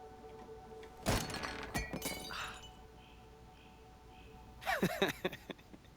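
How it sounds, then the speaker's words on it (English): A mug breaks in Life Is Strange: Reunion with a sharp, close crash and scattered clinks, then a second shattering burst a few seconds later, set against a quiet game background. "You just love watching me break things for science"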